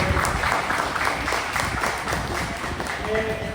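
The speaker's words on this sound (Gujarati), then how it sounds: "એકવાર એના માટે જોરદાર તાળીઓ આપણને" Audience applause at a radio jockey meet-and-greet event in Valsad, a continuous, loud wash of clapping from a crowd lasting the whole stretch.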